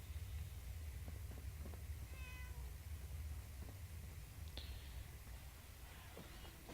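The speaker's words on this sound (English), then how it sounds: "Don't meow at me. Get back in the vault." Ashes the cat meowing in the Fallout 4 video game, a few faint short meows over a heavy low background hum, with one brief higher squeal partway through.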